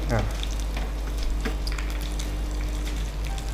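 Garlic, mustard seeds, curry leaves and finely chopped ginger fry lightly in a tempering, making a continuous close sizzle with a few crackles over a low steady hum.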